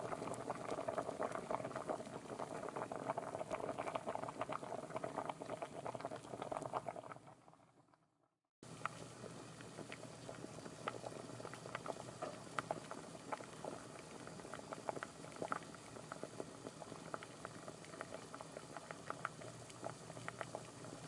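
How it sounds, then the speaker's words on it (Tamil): Sliced onion and grated coconut sizzle and crackle in hot oil for a garlic tamarind curry, a dense continuous frying hiss close by that cuts out for a moment and then resumes. "நல்லா இந்த மாதிரி எண்ணெயிலே நல்லா இந்த மாதிரி வெங்காயம், தேங்காயெல்லாம் இந்த மாதிரி நல்லா வதக்கி விட்டுக்கோங்க."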